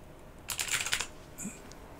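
Quick burst of typing on a computer keyboard, a short flurry of close, light key clicks followed by one or two isolated taps in a quiet room.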